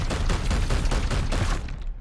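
Rapid, dense gunfire from the turn-based strategy game Warhammer 40k: Chaos Gate, a loud continuous fusillade of overlapping shots for about two seconds before cutting off, with no talking.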